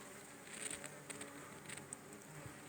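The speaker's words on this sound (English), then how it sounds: "mosquitoes. I'm sure you can hear the buzzing." Mosquitoes buzz outdoors in a natural setting, a faint, steady whine of insects with small flickers of activity throughout and no voices.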